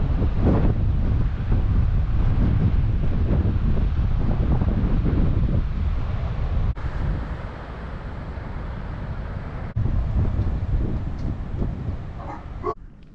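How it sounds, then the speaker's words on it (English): Ocean waves wash ashore at Gouritsmond on the South African coast, a steady broadband roar dominated by strong wind buffeting the microphone, with a brief dip partway through and no talking. "I'll give you a 5-second or so clip just to watch the waves."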